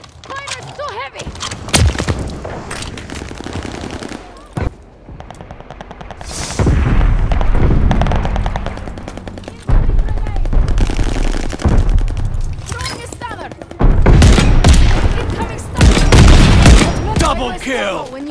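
Heavy automatic gunfire and booming blasts from a Call of Duty Vanguard match, bursts of rifle and machine-gun fire rattling in waves, some stretches dense and loud, others briefer, with explosions mixed in.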